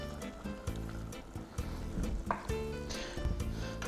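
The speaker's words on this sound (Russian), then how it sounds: "немножко животного жира в кастрюльку, добавляем нашу свеклу туда, добавить немножко бульона." Beetroot stewing in a pot with a little animal fat and broth for Ukrainian borscht, giving a soft, steady sizzle and bubbling with faint stirring knocks, close by and quiet, with no talk.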